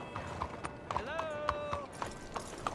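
A horse's hooves clip-clop at a steady walking pace in a Wild West game scene, while someone speaks over the hoofbeats and a brief musical tone swells in the middle.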